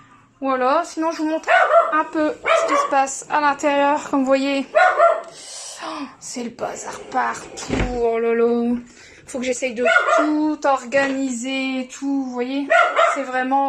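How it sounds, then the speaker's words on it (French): A dog barks at people passing in the street outside a home, sharp repeated barks and yips mixed under and between continuous close talking. "c'est mon chien qui aboie sur des gens qui passent dans la rue"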